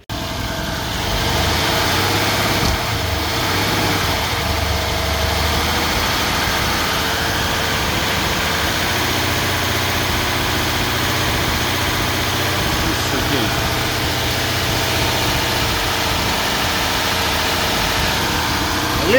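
A 2017 Mercedes GLE 63 engine idles steadily at close range, a continuous low rumble that holds through the whole stretch without revving.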